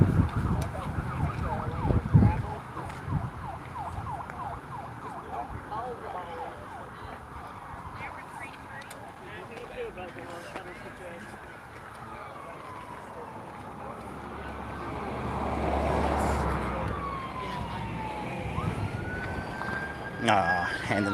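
An ambulance siren wails from a distance in a small Damascus, Virginia town during Trail Days, faint at first and swelling as it draws nearer and passes, over low outdoor ambience.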